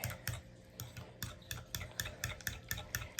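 A fork beats a sweet-and-sour mixture in a bowl, giving a close, steady series of quick clicking taps in a regular rhythm.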